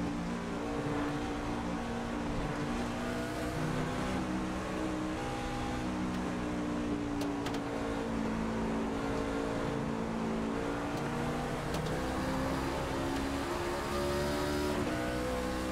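Racing truck engines roar continuously at Watkins Glen in iRacing, a dense pack of motors droning and shifting pitch together at high speed with no voices over them.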